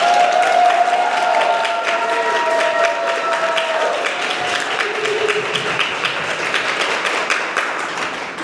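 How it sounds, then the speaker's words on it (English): An audience at a National Honor Society induction ceremony applauds steadily, a dense wash of clapping that slowly tapers off over several seconds. "please join me once again in applauding our new Honor Society members."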